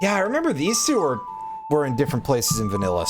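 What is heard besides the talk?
None of the usual background noises is heard.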